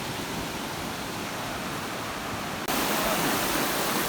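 A river rushing beside a village picnic spot, a dense, loud, continuous roar of flowing water with no voices, growing slightly louder and brighter partway through.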